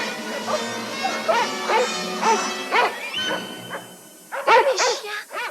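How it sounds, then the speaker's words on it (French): Several dogs bark in a 1962 film, a close series of loud yapping barks and yelps with harmonic tone, followed after a short pause by a sudden burst of overlapping barks. "Lâchez les chiens sur elle."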